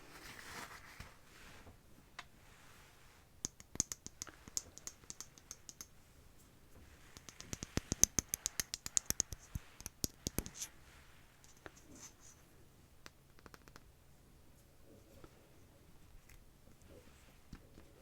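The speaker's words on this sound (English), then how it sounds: "I love the lid sounds." A lid clicks open and shut amid a quiet desk session of writing with ink and blotting paper, a cluster of crisp, close clicks in the middle with soft scratching and tapping before and after.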